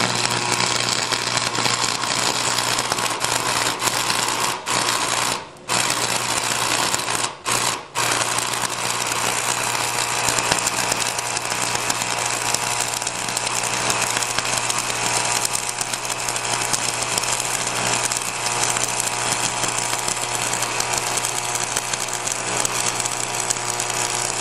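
Stick arc welding, a loud, steady crackling and hissing buzz from the arc, continuous and close, with two brief breaks where the arc drops out.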